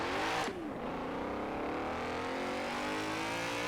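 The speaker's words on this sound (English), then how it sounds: "There's a crazy transmission whine on it as well." Video game BMW M3 GTR race car V8 engine in Forza Horizon 4 roaring and revving hard with a rising transmission whine, loud and close, accelerating continuously.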